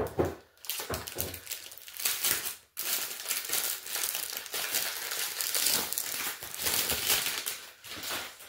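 Plastic packaging around a rolled diamond painting canvas is crinkled and pulled open, a continuous close crackling and rustling that goes on for several seconds with brief pauses and no talk.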